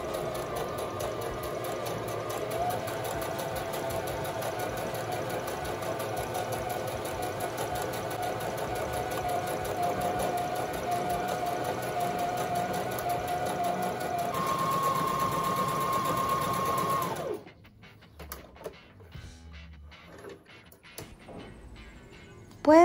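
Sewing machine stitching fabric fed through the guide of a presser foot, a steady close whirring hum running for about seventeen seconds before stopping, followed by faint handling clicks.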